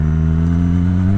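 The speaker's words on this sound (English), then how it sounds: "I really want you to kind of focus on the engine sounds" A 2021 Kawasaki ZX-10R sport bike engine runs loud and close at a steady, low throbbing idle or cruise, with a firm harmonic drone and no voices.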